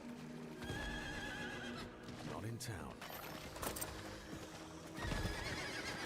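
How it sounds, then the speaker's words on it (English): Horse ridden in the video game Diablo 4, with clip-clop hoofbeats and a whinny amid game effects, while a person talks briefly over it. "We're just going to go on our horse, I think."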